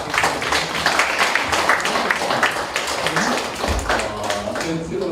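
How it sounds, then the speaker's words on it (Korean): Lecture audience applauding at the end of a talk, a steady wash of clapping heard close, with a voice speaking over it. "조수목 박사님 박수 부탁드립니다"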